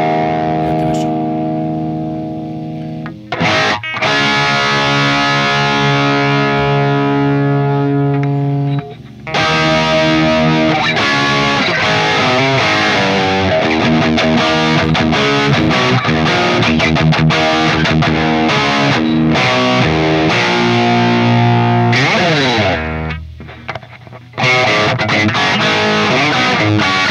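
Heavily distorted electric guitar runs through a Neural Amp Modeler Mesa amp capture with an SM57 mic as a VST plug-in, playing loud sustained chords and riffs with a few brief pauses.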